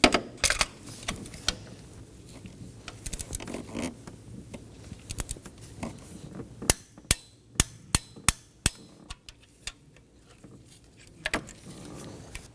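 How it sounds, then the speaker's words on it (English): Torque wrench clicks while tightening a spark plug on a 2015-2023 Nissan Maxima, a series of sharp metallic ratchet clicks and taps, several spaced hits then a quick run of evenly paced clicks, close and fairly quiet. "I'm going to torque this down to 14 foot-pounds."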